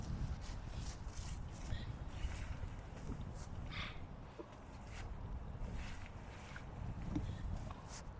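Gusty wind buffets a tent and a camp outdoors, a steady broadband rush with no pauses, loud and close to the microphone.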